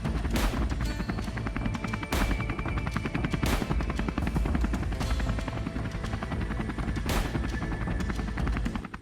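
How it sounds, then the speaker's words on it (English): Helicopter rotors churning loudly and continuously, a dense close thrumming roar with rapid blade chop and sharp bursts of gunfire cutting through it, during an aerial wild boar hunt over open fields. "the field went silent, except for the low churn of the rotors"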